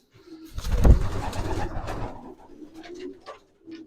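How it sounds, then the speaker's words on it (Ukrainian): A loud flutter of flapping wings as pigeons fly out into an aviary, followed by pigeons cooing softly in the background with a few faint clicks. "Голубки собі вилітають вільне відвідування на На вольєр"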